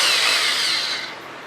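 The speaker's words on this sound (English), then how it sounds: "I'm just going to pre-drill it and then I'm going to bring it back out." Cordless power drill pre-drilling a pilot hole into the bottom of a plastic Dollar Tree mop, one steady high whirring run that eases off toward the end, heard alone.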